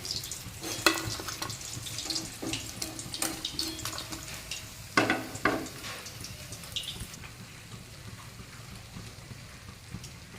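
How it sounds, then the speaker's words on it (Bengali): Amude fish fry in hot oil, a crackling sizzle broken by sharp pops and spatter bursts in the first half, then settling into a quieter, even fizz. "আর বাকি মাছগুলো একইভাবে ভেজে দেবো"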